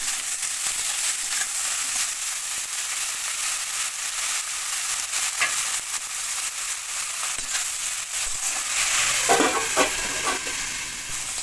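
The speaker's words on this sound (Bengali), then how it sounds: "সিম বেগুন ভাজা হয়ে গেছে, এবার ঢেলে নেবো।" Beans and eggplant frying in oil in a pan give a steady, close sizzle with a few clinks and scrapes near the end, no voices.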